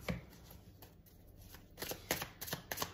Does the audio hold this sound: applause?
no